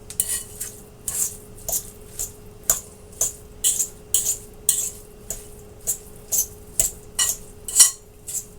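Two pounds of hamburger meat being mixed with a utensil in a heavy skillet, producing a steady series of sharp metallic scrapes and clinks at a regular rhythm, close up with no talking.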